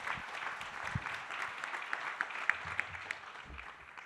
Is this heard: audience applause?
yes